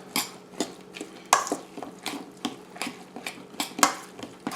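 A spoon scrapes and clinks against a dish as a potato mixture with salt and pepper is stirred for potatoes au gratin, in a steady run of close, irregular knocks and scrapes.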